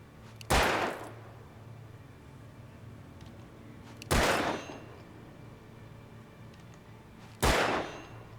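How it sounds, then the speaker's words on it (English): Three loud, sharp gunshots in the video game Alan Wake ring out with long gaps between them, each with a short decaying tail over a low ambient hum. "Okay, I can shoot them."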